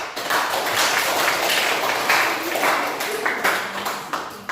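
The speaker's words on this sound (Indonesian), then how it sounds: "Mari kita berikan tepuk tangan untuk Jaya." Audience applause at a church youth gathering, a dense burst of clapping from a crowd, loud and close throughout with uneven peaks.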